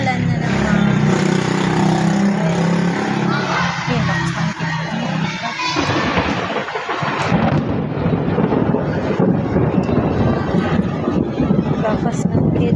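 A rolling rumble of thunder during a rainstorm, loud and close, with wind buffeting the microphone and rain noise throughout; someone talks over it at points.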